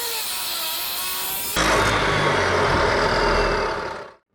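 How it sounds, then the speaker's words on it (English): A power saw cuts small pieces of steel pipe for heavy duty trailer ramps: a steady engine-like drone first, then a louder harsh grinding cut that runs for over two seconds before stopping abruptly. "We'll cut the little pieces for the end of the pipe too."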